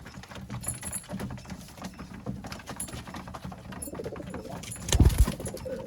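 Roller pigeons coo softly in the background amid rustling and fluttering, with a louder burst of wing flapping or scuffling near the end.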